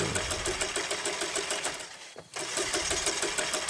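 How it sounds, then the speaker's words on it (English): A car engine in a video game cranks without catching, a rapid rhythmic whirring starter that runs, breaks off briefly and then resumes, loud and close. "I think there's something wrong with the engine, Mr. H."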